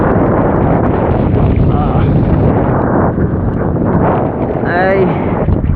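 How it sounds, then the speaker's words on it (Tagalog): Strong wind buffets the microphone in a loud, continuous roar during a fishing trip, with faint voices and a brief whistling tone near the end. "Pangit ng panahon kasi, mahangin."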